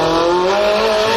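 A Barra-powered Toyota Cresta drag car does a high-speed burnout, its engine screaming at high revs with a steady, loud, sustained tone and tire squeal, with no pause across the short stretch.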